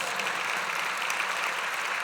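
An audience at an epilepsy charity interview event claps in a brief, even patter of applause, moderately loud and continuous with no voices over it.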